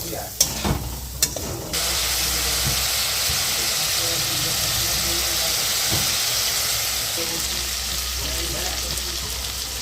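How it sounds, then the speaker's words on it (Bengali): A chicken chop filling with a little chili powder sautés in a pan, a steady loud sizzle and hiss running throughout after a few sharp clatters of stirring at the start. "কষিয়ে নেওয়া হচ্ছে ভালো করে"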